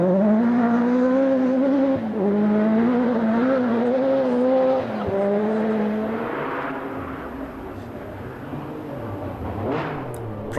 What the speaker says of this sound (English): Stig Blomqvist pushing hard but hemorrhaging time with this rear puncture